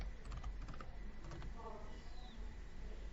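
Commands are tapped out on a computer keyboard, a faint run of quick clicks early on with a soft enter press, under a quiet background hiss and a brief chirp.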